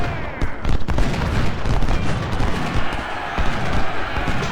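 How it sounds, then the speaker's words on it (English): Musket fire crackles in a Civil War battle game at Gaines' Mill, a dense, continuous fusillade of overlapping shots and booms, loud and close, with a voice faintly mixed in. "Hunt's firing on the units there"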